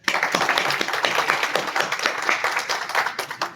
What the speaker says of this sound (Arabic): ويحتاج منا إلى تصفيقة حارة